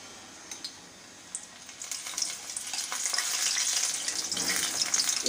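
Corn pieces coated in batter drop into hot oil, which rises from quiet into a loud, dense, bubbling sizzle with sharp crackles and spits that build and hold steady near the mic.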